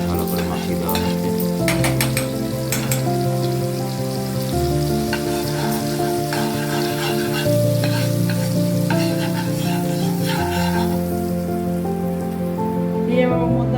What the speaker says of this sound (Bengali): এই কড়াইতে চারিদিকে বাটারটা ভালো করে মাখিয়ে দেওয়া হচ্ছে।